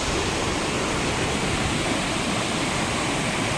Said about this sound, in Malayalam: നല്ല ഒഴുക്കുള്ള വെള്ളം